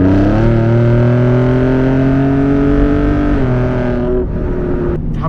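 A Ford F-150 Raptor with a bi-turbo V6 accelerates hard after a downshift, its engine tone climbing loudly and steadily, then dropping at a brief gear change before easing off near the end.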